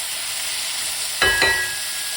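Spinach cooking in olive oil in a pan: a faint steady hiss, then a brief louder burst of sizzling that fades back down.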